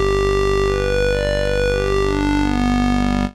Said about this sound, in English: if I was to move this to the right, you can hear all of those different overtones